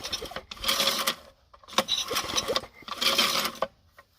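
Old Briggs and Stratton 3.5 hp tiller engine making an odd noise: three rhythmic bursts of rapid mechanical clattering and rasping, about a second each and separated by short pauses, close and fairly loud with no talking.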